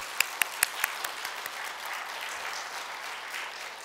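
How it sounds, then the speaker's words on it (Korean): Church congregation applauding the worship team at a Friday service, a few sharp close claps up front over a steady wash of crowd clapping. "우리 격려와 감사의 마음을 담아서 한번 우리 박수할까요?"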